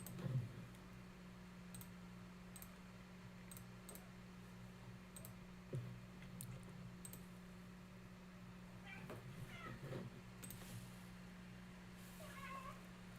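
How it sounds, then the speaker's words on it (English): Cats meow faintly in a quiet room, several soft cries late in the stretch, over a steady low hum and occasional clicks. "Do you guys hear my cats meowing in the background?"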